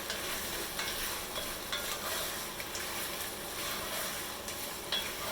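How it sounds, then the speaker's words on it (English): Shrimp stirred in a sizzling pan for salt and pepper shrimp, a steady loud frying hiss throughout with occasional soft scrapes of the utensil against the pan. "I'm going to stir this up with the shrimp."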